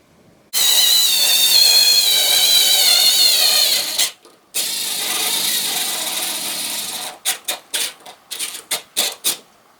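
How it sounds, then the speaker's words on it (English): A long screw driven into a wall to hang a heavy picture with a power driver, a loud continuous whirring run, a brief pause, a second run, then a series of short bursts as it is tightened. "I'm going to put the other screw in now"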